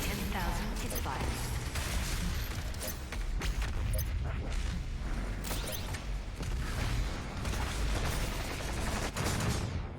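Rapid gunfire bursts from the BFG 10,000 and other weapons during a Doom Eternal battle on Ultra-Violence, a loud, continuous barrage of shots and blasts with an automated warning voice over it.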